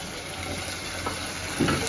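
Spice paste dropped into a hot pan for paneer curry, giving a soft continuous sizzle and hiss with a brief louder splutter near the end.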